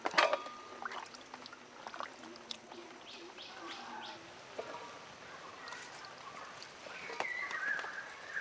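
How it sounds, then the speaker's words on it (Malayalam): Water trickles and splashes softly as koyikkal dumplings are washed and drained, with faint clinks and pouring throughout and birds chirping in the background. "നമുക്കിനി നന്നായിട്ടൊന്ന് കഴുകി ഊറ്റിയെടുക്കുക."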